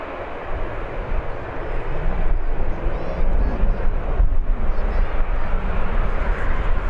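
A Learjet taxiing onto the runway at Birmingham Airport, heard as a steady broadband jet rumble and whine from a distance, mixed with wind buffeting on the microphone throughout.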